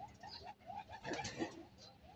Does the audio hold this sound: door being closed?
no